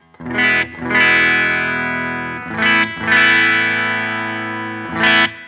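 Clean electric guitar chords, played without a pedal, strummed three times, each left to ring out and fade slowly, with no talking.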